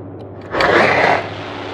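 Aircraft engine in a flight simulator game on a Philippine island tour, a steady mechanical drone that swells louder for about half a second, then settles back to a sustained hum.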